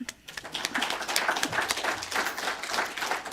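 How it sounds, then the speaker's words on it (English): A congregation celebrating 40 years of Unity in Appleton applauds itself with steady, dense clapping throughout, close and full. "I'd say applaud yourselves."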